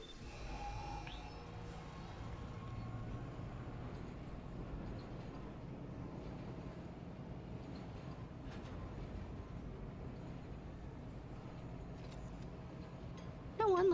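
Tram rolling along its track in the video game Dead Space, a steady low mechanical rumble with faint rattles running throughout at moderate level, with no talk over it.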